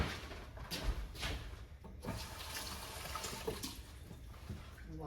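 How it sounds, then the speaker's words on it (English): A kitchen tap runs steadily into a sink while hands are washed, a soft continuous splashing with faint clunks, heard alone at low level. "Wash my hands really quick."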